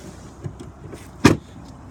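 The rear hatch of a 2017 BMW X5 sDrive35i swings shut with a single solid thump, preceded by faint soft knocks and clicks in a quiet setting.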